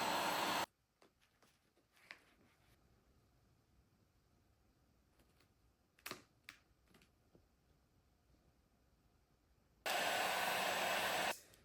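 A heat gun warms vinyl wrap film, blowing loud and close in two steady bursts at the start and the end. Between them come a quiet gap and a few faint clicks and handling sounds.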